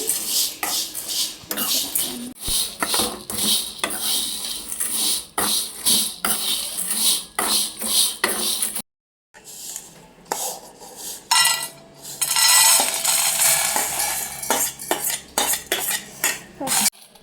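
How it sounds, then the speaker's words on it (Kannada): Maggi noodles for a chaat are fried and stirred in a pan, with steady metallic scraping and clinking of a utensil against the pan, a brief pause midway, then a louder stretch of frying hiss and stirring. "ಇದನ್ನು ಈಗ ಫ್ರೈ ಮಾಡ್ಕೊಳ್ಳೋಣ. ಫ್ರೈ ಮಾಡ್ತಾ ಇದ್ದೀನಿ."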